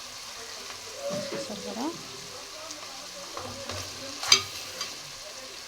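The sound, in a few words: stirring cauliflower and dried prawn curry in a frying pan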